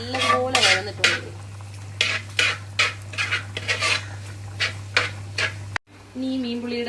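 A utensil stirs and scrapes fish head curry masala, made with kera tuna head, in a pan, with repeated close metallic scrapes and knocks over a low hum and a faint sizzle.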